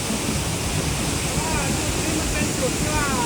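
A large waterfall on the Bolaven Plateau in southern Laos roars as a dense, steady wash of rushing water, with faint voices in the background.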